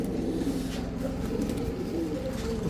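A female khaki giribaz high-flyer pigeon coos in low, rolling repeated calls, close and steady over a murmur of background noise.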